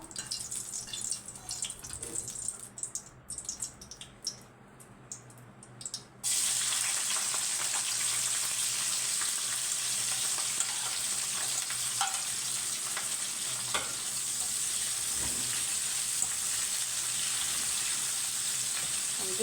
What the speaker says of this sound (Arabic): بعد ما حمرنا الباذنجان بقى هنحط الفلفل اللي احنا قطعناه